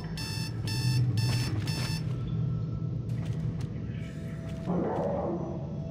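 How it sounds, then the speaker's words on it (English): An alarm clock in the video game Dead Space 2 rings in four quick bright electronic bursts at the start, then stops, leaving low game rumbles and clanks. "Oh man, you stupid alarm clock."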